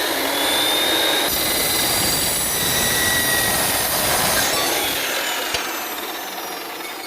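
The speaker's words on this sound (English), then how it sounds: "I'm going to put the saw blade to the outside of the piece" A power saw cuts through a robot chassis piece with a loud, steady, close-up whine and grinding hiss that holds for several seconds before easing off.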